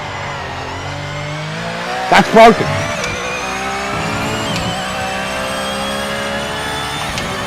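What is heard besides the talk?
Mercedes race car driving in a racing video game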